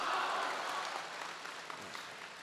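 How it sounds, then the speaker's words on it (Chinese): A theatre audience applauds at a crosstalk comedy performance, giving a dense, steady wash of clapping that starts loud and slowly fades, with no clear cheering or voices. "连鼓掌带叫好"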